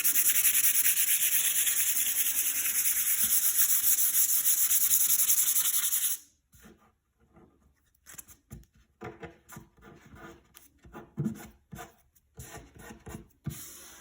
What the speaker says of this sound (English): 320 and lightly sand over.